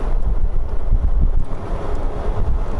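Inside an eBuggy all-electric car driving near the beach, there is no engine sound, only loud, buffeting low wind rumble that runs steadily throughout.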